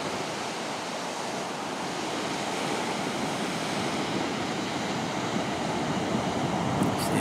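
Big ocean surf of about five to six feet breaks on a beach during severe overwash, a loud, steady roar of waves and wash with some wind, rising slightly toward the end.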